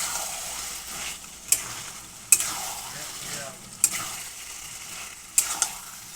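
Mutton with garam masala being sautéed in a pan over low gas, a soft sizzle broken by four sharp metallic spatula clinks against the pan at irregular intervals, close and without talk.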